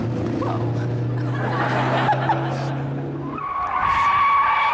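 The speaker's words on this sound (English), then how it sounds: "That was oversteer in a front-wheel drive car." A front-wheel drive car's tyres squeal as it oversteers on a race track, a loud sustained tonal screech that cuts off abruptly, with laughter and chuckling alongside.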